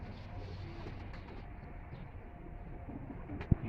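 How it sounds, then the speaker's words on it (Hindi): A pigeon from a Lahore fancier's loft coos softly against a low, steady ambient rumble, with one brief sharp knock near the end and no talk. "ये देखें जी, ये कबूतर है जी उस्ताद बाबा सिकंदर साहब के घर का"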